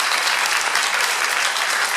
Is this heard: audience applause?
yes